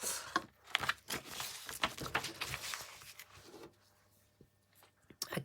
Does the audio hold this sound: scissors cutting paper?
yes